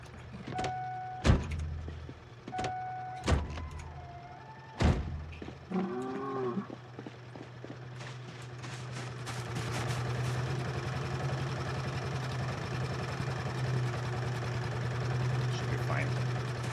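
A car in a zombie apocalypse video game drives off the road, its engine droning and rumbling steadily beneath sharp beeps and mechanical whines, while someone talks over it.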